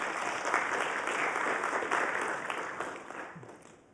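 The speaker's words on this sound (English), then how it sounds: "Can we have a round of applause for Ashna who figured this one out?" A lecture audience applauds in a hall, a steady wash of many hands clapping that holds for a few seconds and then begins to fade toward the end.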